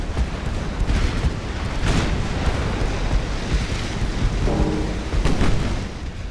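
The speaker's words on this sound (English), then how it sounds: "Oh, that's a double ammunition detonation. Both turrets on the front and back just popped off." A battleship's fore and aft ammunition magazines detonate in the naval game Ultimate Admiral: Dreadnoughts, producing loud, rolling booms and blasts that overlap in a continuous heavy rumble with several sharper bursts.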